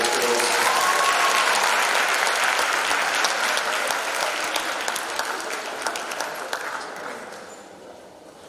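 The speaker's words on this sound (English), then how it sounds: "another round of applause." A large crowd applauds at a class of 2021 graduation ceremony, loud sustained clapping that starts full and gradually thins and fades over about eight seconds, with some faint voices mixed in.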